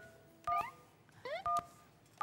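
Cell phone keypad tones sound as a number is dialed during a televised house giveaway draw, with several short, clear beeps in quick, uneven succession alongside brief chirping tones.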